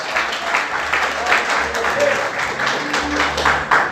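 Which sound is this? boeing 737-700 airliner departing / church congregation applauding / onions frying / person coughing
church congregation applauding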